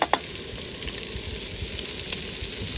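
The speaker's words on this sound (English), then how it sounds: "the bacon's cooking up nicely. A nice little sizzle going on there." Bacon sizzles and fries in a pot over a camp stove while cooking for potato soup, a steady soft crackle with a couple of small clinks near the start and no speech.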